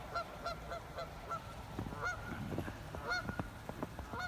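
A single Canada goose honks repeatedly outdoors in a snowy setting, fairly distant, in a steady series of calls over wind noise and scattered thumps.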